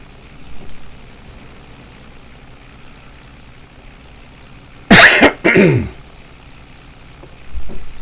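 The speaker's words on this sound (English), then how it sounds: "My coughing is out of control today." Two hard coughs with throat clearing, close and loud, about five seconds in, breaking an otherwise quiet room with faint background noise and a soft rustle near the end.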